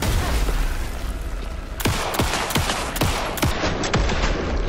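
Gunfire in the Alan Wake 2 video game rings out as a series of sharp, close shots, roughly eight cracks spaced irregularly over a few seconds after a noisy stretch.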